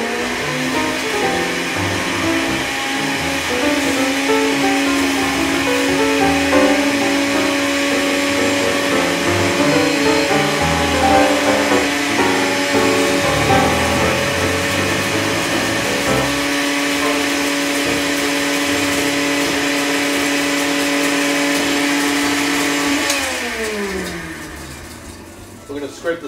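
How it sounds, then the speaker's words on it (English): A blender whirring through a sauce of lime juice and olive oil, a loud, steady motor whine with shifting pitch that runs continuously before winding down and stopping near the end. "drizzle the olive oil in as we're blending this"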